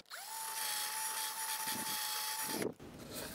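A small power drill reams a hole through a model railroad layout for a dwarf signal. It gives a close, steady high whine for about two and a half seconds, then stops abruptly with a clunk, and a brief rustle follows.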